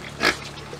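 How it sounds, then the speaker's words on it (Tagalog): A pig on a farm lets out a single short grunt, close and moderately loud, over a faint background hum. "Ay baboy."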